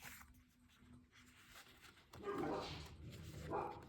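Dogs barking from inside a home, a burst of muffled, somewhat distant barks in the second half, following a quieter stretch with faint rustling.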